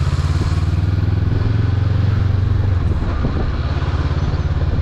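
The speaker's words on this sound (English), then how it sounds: "riding this motorcycle is beautifully easy in the city." A 2021 Honda CB500X motorcycle rides through city streets, its engine giving a steady, loud, close-up drone with a rhythmic low pulse that shifts slightly in pitch partway through.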